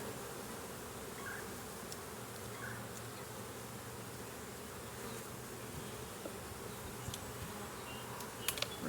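Honey bees in full nectar flow on autumn olive drone in a dense, steady buzz around an open hive, close and continuous, with a few faint clicks near the end.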